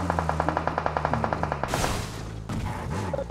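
Rapid automatic gunfire from a multiplayer shooter match, a steady burst of regular shots for about a second and a half, then louder, harsher blasts and crackling impacts close by.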